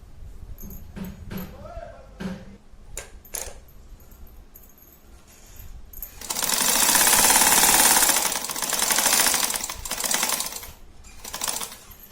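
Sewing machine stitching fabric for ladies' socks runs in a loud burst of rapid mechanical whirring, preceded by scattered clicks, handling noises and brief speech, then several shorter stitching runs.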